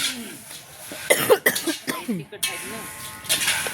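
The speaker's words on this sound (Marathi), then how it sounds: "खोकला यायला लागला." Harsh fits of coughing from spicy chilli fumes come in a close, loud burst of several sharp coughs in the middle, with a voice speaking briefly before and after.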